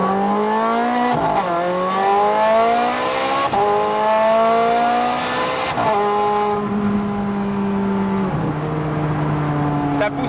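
A Novitec Rosso Ferrari Scuderia Spider 16M V8 accelerates loudly, howling upward through several gears with sharp drops at each shift, close and dominant throughout.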